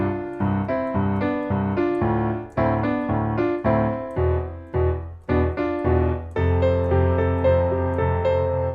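Lead piano part from a song plays alone, with steady rhythmic chords and a moving right-hand line, close and full with no talking.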